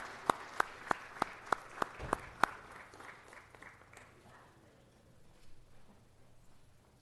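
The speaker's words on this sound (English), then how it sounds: "Let's give them a round of applause, ladies and gentlemen." Several sharp, evenly spaced claps ring out close by at a city council meeting, about eight in a row, then give way to a faint, diffuse patter and murmur in a large hall.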